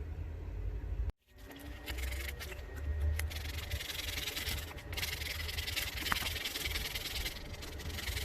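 A custom six-inch wooden fishing lure being hand-sanded gives a continuous close rubbing rasp that breaks off briefly near the start, then resumes steadily with slight swells, no voices.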